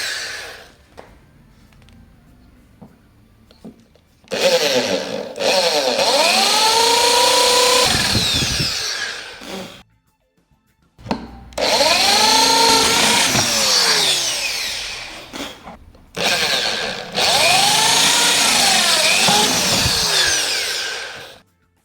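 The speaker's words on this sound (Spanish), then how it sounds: "Después, con una broca más grande, del tamaño de la cabeza del tornillo que utilicéis, voy a pasarlo por el agujero para esconder la cabeza" Power drill boring a hole with a larger bit into a beer keg being made into a stool, in three long whining bursts with rising and falling pitch as the bit bites, separated by short pauses.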